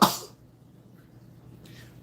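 A single abrupt, harsh cough burst at the start, close and loud, followed by near silence with a faint hiss.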